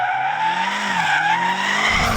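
Car tyres squeal continuously as the car slides, a loud, wavering screech over a steady engine note, close by with no voices.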